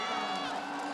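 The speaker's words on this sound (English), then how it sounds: "I can hear the crowds are saying no." Large esports arena crowd at a Worlds 2023 League of Legends match, a dense continuous roar of shouting voices filling the space, loud and unbroken.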